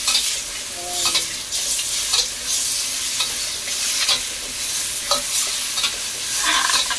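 Loud, continuous sizzling of chicken and chicken feet frying in a pan, with scraping and clacking of a utensil as it is stirred.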